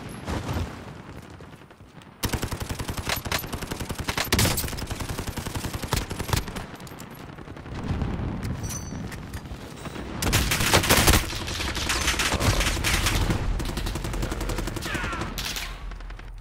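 SMG gunfire in Call of Duty Warzone, dense rapid bursts crackling loud and near for long stretches, with brief pauses between volleys and occasional voices underneath.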